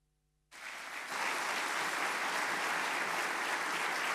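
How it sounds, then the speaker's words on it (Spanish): An audience applauds a speaker after a geopolitics talk; the sound starts from silence at about half a second, then settles into dense, steady, loud clapping that fills the room without a break. "El aplauso, por supuesto, a Andrés Malamud"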